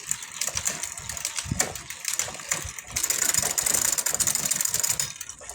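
A bicycle with a Shimano Tourney TX35 derailleur clicks and ratchets through gear shifts as the drivetrain spins, a close mechanical whirring that grows louder and busier partway through.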